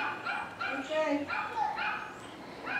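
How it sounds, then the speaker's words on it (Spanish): Dogs bark here and there in a residential neighborhood, some distance off, under steady background noise and close voices talking. "Ahí los perros ladre y ladre también."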